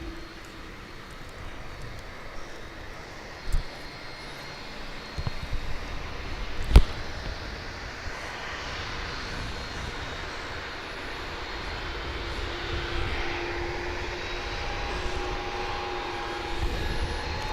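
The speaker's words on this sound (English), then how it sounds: "So we've got the A220 taking off" Airbus A220 taking off at DFW International Airport, a distant jet engine roar building slowly and steadily under outdoor ambience, with a few thumps and a sharp click partway through.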